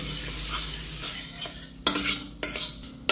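Butter and a little cooking oil sizzle steadily in a frying pan. A few sharp utensil scrapes and clinks sound up close against the hiss.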